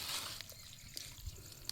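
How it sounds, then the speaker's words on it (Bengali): Water wells and trickles up out of a hole in wet mud during eel fishing: faint, close, wet seeping with a few small pops and drips, and no voices. "এই ঠিক এই জল উঠছে মানে এখানে গর্ত আছে।"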